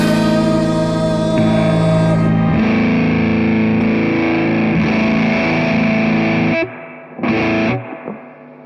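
A heavily distorted electric guitar run through effects pedals, thick sustained chords ringing loudly, then a brief pause before a short final burst.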